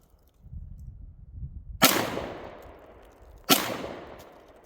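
Two sharp Canik TP9SF pistol shots fired outdoors about a second and a half apart, each a loud crack followed by a long decaying echo, with faint low rumble before the first shot.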